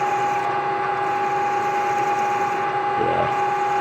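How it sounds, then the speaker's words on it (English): A power drill runs steadily while boring two holes for a pressure washer pump mount on a garden tractor, a continuous whining motor hum with a brief change in load near the end. "Just gonna drill 2 holes."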